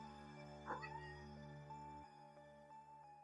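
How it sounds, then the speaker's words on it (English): A cat gives a brief, faint meow after waking up, heard over a steady electronic hum with tonal background sounds in a quiet indoor room. "You woke Maya, the cat."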